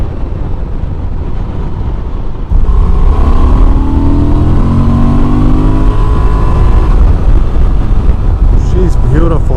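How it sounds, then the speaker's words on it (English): A 2024 Honda Transalp 750 adventure motorcycle revs up loudly and close, with rising and falling engine pitch sweeps over a roaring, rumbling idle. "This engine is phenomenal. It has just enough grunt in it. Let's wind it up a little bit."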